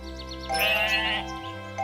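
A single sheep bleat from the farming video game Harvest Island, a clear wavering nasal cry over a steady low background hum.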